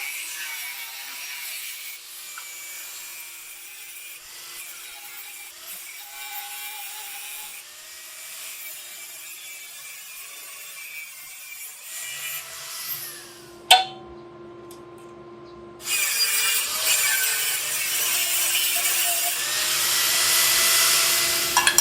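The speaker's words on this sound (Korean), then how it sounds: "끝부분을 얇고 길게 절단한 뒤 거기에 나무 손잡이를 끼워줄 예정이죠" A saw cuts the end of a copper-and-steel knife blank into a long, thin tang, grinding steadily at first, then a sharp bang and a brief pause before a louder, harsher cutting rasp resumes.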